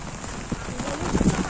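Steady heavy rain drumming on a surface, with a few louder splashes and knocks toward the end; no one speaks.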